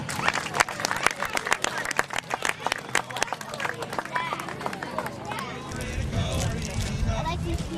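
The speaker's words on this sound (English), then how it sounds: "Another round of applause for Steve Smith." Crowd at a radio-controlled model airshow clapping for pilot Steve Smith, sharp distinct claps from a scattered outdoor audience, thinning out as murmuring voices and wind noise take over.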